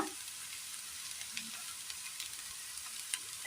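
Curry leaves crackle and sizzle in hot oil in a pan for a Kerala dish, a faint steady frying hiss dotted with sharp little pops and spits, with no talk.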